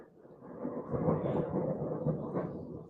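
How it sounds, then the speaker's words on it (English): Thunder from a thunderstorm rumbles steadily throughout, a broad low roll that swells and lingers without clear breaks, fairly loud and heard alone with no talking. "We're getting a thunderstorm."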